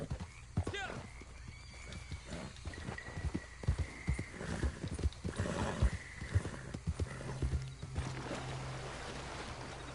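Horse hooves clip-clop steadily over a busy background with a whinny and some ambient game sound in Red Dead Online, moderately loud and close.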